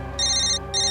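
A phone rings with a bright electronic ringtone, two short bursts separated by a brief gap, close and clear over a low background hum.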